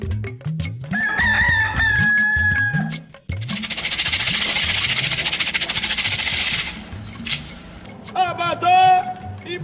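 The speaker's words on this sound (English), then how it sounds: "Every morning as the cock crows" A rooster crows on a morning in Ile-Ife, southwest Nigeria, with two loud, drawn-out calls near the start and again at the end, separated by a stretch of dense noise and other voices.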